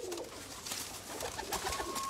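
Domestic pigeons coo softly, several birds at close range in a loft with yellow-eyed birds, soft murmuring calls running steadily without people talking.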